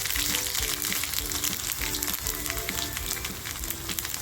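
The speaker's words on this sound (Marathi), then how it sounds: "तेल असं आपल्याला छान कडकडून तापवून घ्यायचे तर बघा राई घेतले ती राई टाकते अगोदर राई आपल्याला छान अशी तडकून द्यायची आहे लसूण टाकते" Mustard seeds and garlic crackle and sizzle in hot oil, a steady dense frying hiss with rapid popping throughout, close and moderately loud with no voices.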